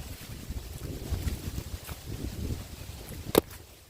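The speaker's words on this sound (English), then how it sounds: "The wind is whipping." Steady, rushing wind noise buffets the microphone throughout, with gusty low rumbling and a sharp brief burst near the end.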